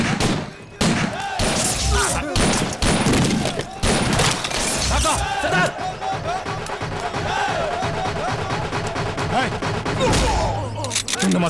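Gunfire in a Telugu action film scene from Sardaar Gabbar Singh, a rapid volley of loud bangs and thumps in the first seconds, followed by a dense, noisy mix under music and raised voices.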